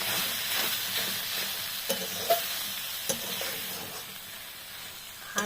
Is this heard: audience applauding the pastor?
no